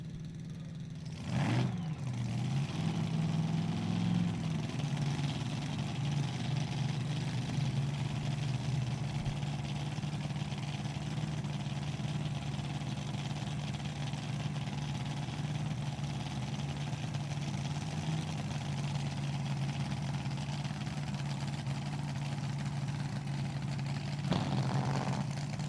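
A nitro drag race car and a supercharged Mopar drag race car idle side by side in the lanes, a steady low, lumpy drone at a distance, with a short sharp burst near the start and again near the end.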